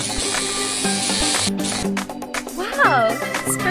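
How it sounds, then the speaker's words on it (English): Water sprays onto an animal's hair in a jungle-themed kids' hair salon game: a bright, steady hiss for over a second, then a cartoonish character voice speaks. "spray some water on my hair"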